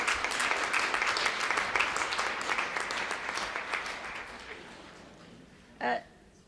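Applause from an audience at a roundtable session in Vienna, many hands clapping at once, loud at first and then gradually fading to quiet, with a brief voice near the end.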